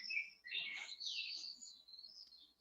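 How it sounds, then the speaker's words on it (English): Small birds chirp and tweet in quick, high, overlapping calls, faint and distant as if drifting through an open window during an online city council meeting, heard alone without talk. "Does anyone else hear like birds chirping, or am I just going insane?"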